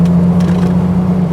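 Steady low engine drone and road noise inside a Jeep Wrangler Sahara with a 4-litre engine, heard from the cabin while driving at around 30, loud and constant with no talking.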